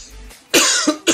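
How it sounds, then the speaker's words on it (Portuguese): Three harsh, barking coughs close by, the last two in quick succession after a short gap. "Desculpa aí, mas essa tosse de cachorro aqui."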